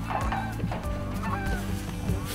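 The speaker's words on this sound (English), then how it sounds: "provides habitat for these geese that you hear flying around" Geese honking as they fly over flood-irrigated Harney Basin fields, repeated nasal honks at close to middle distance over a steady outdoor background.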